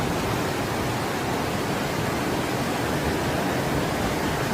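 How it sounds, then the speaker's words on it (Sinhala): Floodwater rushes fast and under heavy pressure over a road in a Sri Lankan town, a loud, unbroken roaring hiss like a waterfall, steady throughout with no voices. "පාරෙන් නම් අඩි 10ක විතර වතුර ප්‍රෙෂර් එකක් යනවා"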